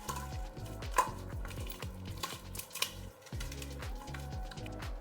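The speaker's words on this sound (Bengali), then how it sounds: "একটু ভালো করে মেখে নিচ্ছি।" Katla fish pieces are mixed by hand with salt and turmeric in a bowl, giving soft, moist squelches and light clinks that repeat in a steady kneading rhythm, close and quiet, under a low background hum.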